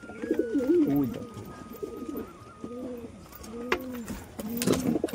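Pigeons coo in repeated, rolling low calls from close by, several phrases spaced across the moment with faint background sounds and a brief clack.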